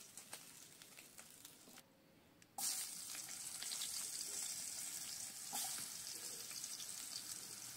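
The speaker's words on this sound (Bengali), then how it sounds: "সেই আলুগুলো এবার ভেজে নেব, এই তেলটার মধ্যেই এই আলুগুলো ভেজে নেব।" Potato pieces salted and coloured with turmeric drop into hot oil, and a loud, steady sizzle with crackles starts up close after a brief quiet moment and keeps going.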